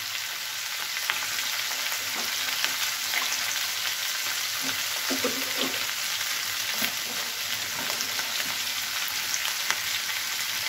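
Vegetables for a Bengali mustard-poppy paste chorchhori sizzle and crackle steadily in a pan, with soft scraping stir strokes over the constant hiss.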